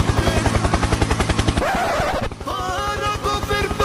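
A helicopter nearby gives a loud, rapid rhythmic chopping of rotor blades that cuts off partway through, followed by a different tonal mechanical sound.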